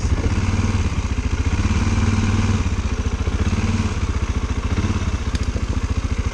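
A quad bike (ATV) engine pulses steadily close by while riding a trail, with a fast, even chugging rhythm and a slight change in pitch partway through, with clattering underneath and no talking.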